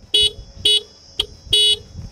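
The horn of a 2025 Honda SP 125 motorcycle beeps four times up close, three short honks and one quick tap, each a bright, buzzy tone.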